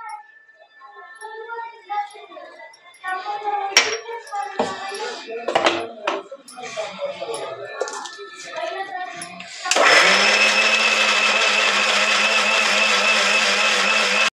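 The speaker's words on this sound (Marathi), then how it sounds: "आपल्याला मिरची बारीक करताना मीठ पण टाकायचं आहे." Mixer grinder whirring loudly and steadily as it grinds red chillies with salt for a garlic chutney, starting abruptly after a stretch of kitchen clatter and brief talk, then running continuously to the end.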